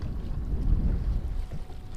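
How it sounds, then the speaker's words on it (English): Wind buffets the microphone at Salt Springs reservoir in California, a low steady rumble with gusty swells, heard briefly and without talking. "It is windy."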